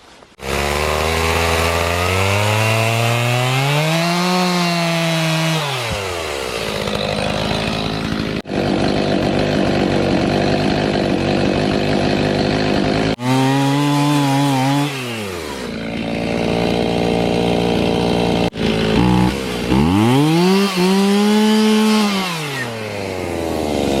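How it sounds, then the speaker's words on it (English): A loud chainsaw revving up and bogging down as it cuts between two touching logs of a log cabin wall, engine pitch rising and falling in long strokes, very close. "by me running my chainsaw in between the 2 logs where they were touching"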